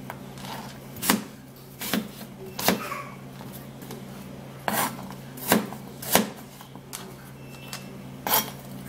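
Knife chopping food on a board, about eight to ten sharp, irregular strikes at close range with quiet gaps between them and no talking.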